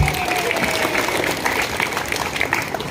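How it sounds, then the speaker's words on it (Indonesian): Crowd at a public gathering addressed by a regional head applauds for women, dense continuous clapping filling the space at close range from start to end. "Tepuk tangan untuk perempuan-perempuan."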